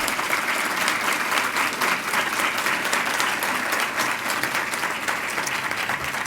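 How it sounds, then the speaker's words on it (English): Audience at the 2012 Innovators awards ceremony applauding an honoree, a full, even wash of many hands clapping, loud and sustained throughout with no speech over it. "Let's give him a round of applause"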